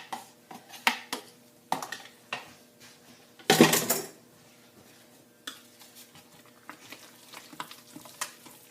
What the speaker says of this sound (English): We're going to mix it up really good so every part of the soap gets